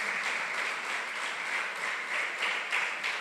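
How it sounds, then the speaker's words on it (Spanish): A church congregation applauds in a dense, continuous wash of clapping, steady and fairly loud throughout with no voices over it. "Dele un aplauso al Señor"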